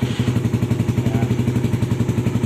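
A motorcycle engine runs at idle close by after being switched on, a steady rhythmic low putter with fast, even pulses and some light mechanical clatter.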